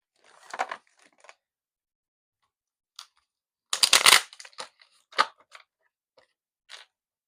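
A deck of playing cards is handled and shuffled in a quiet room, with a few soft isolated clicks and one short, brisk riffle burst in the middle.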